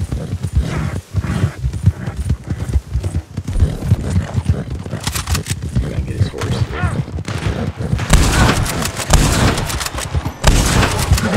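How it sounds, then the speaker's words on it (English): Gunfire cracks among galloping horse hooves in the online western game Red Dead Online, with rapid shots and clip-clop rhythms over a dense, loud game mix while players talk. "Yep, he's shooting at me"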